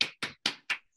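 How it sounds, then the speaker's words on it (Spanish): Four sharp, evenly spaced hand claps ring out close and fairly loud, each one crisp and distinct, with no voices underneath, in the spirit of an audience applauding a guest. "Oye, un aplauso de nuevo, querida mía."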